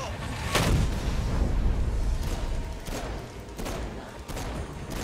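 Repeated sharp gunshot bursts in the video game Saints Row: Gat out of Hell, spaced irregularly over a constant rumbling background of battle noise.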